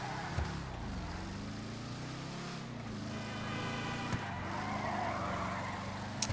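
A car engine in GTA V revs and strains through rising and falling pitch sweeps, a steady mechanical drone heard fairly faintly with no talking over it.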